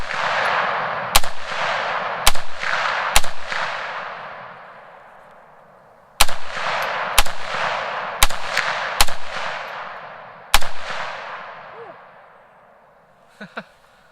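A rifle fitted with an eBay muzzle brake fires about ten loud, sharp shots outdoors, spaced irregularly, each with a long rolling echo that fades out, followed by a few faint clinks near the end.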